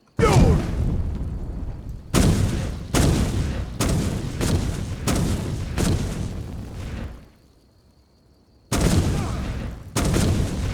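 Fire Breath shout in the Skyrim video game, repeated roaring bursts of fiery blasts, loud and close, in several long sustained waves separated by short gaps and one longer pause.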